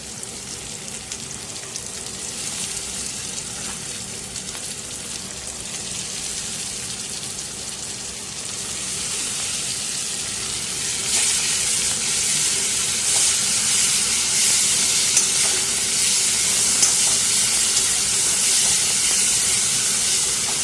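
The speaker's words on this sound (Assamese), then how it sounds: "এইখিনি দি অলপ সময় ভাজিম" Ginger, garlic and onion paste frying in hot oil for an Assamese mutton curry, a steady close sizzle and hiss that grows slightly louder partway through, with no talking.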